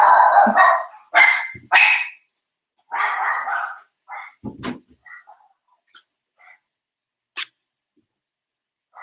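Dogs bark in short bursts, several loud close barks at first, then sparser, quieter yips trailing off with gaps of silence between.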